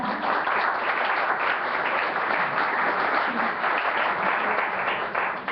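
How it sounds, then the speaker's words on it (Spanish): An audience at a talk on governance applauds steadily, dense sustained clapping that stays loud and even throughout with no pause, heard alone. "Un aplauso, por favor."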